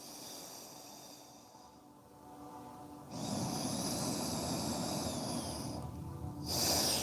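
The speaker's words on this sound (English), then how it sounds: "breathing through your nose." Slow, audible breathing through the nose during a yoga session, long airy inhales and exhales heard up close and quiet, with no talking over them.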